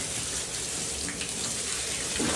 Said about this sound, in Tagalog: punuin natin yung swimming pool nyo